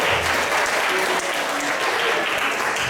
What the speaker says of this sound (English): Round of applause for the word ass while we're at it.